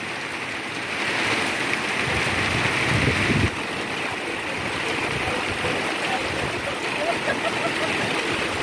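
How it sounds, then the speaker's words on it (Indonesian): Rain and wind fall steadily around the Jatigede reservoir as a dense, continuous hiss at moderate level, briefly swelling louder for a few seconds before settling back. "Hujan sakurilingna."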